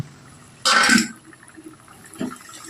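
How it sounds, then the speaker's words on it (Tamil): Water poured from a vessel into a cooking pan while making a Tamil fish curry: a short splashing pour followed by a smaller splash, close up with no talk. "இதை கழுவி கொஞ்சமாக தண்ணி ஊற்றிக்கிறேன்"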